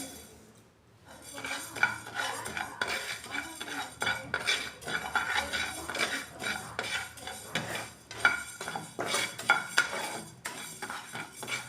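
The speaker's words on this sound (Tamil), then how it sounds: "அரைக்க புழுங்கல் அரிசி சேர்த்து வறுத்துக்கிடணும்" Parboiled rice being dry-roasted in a pan for an urad dal puttu, with busy close scraping and rattling of a metal spoon against the pan and a light sizzle throughout.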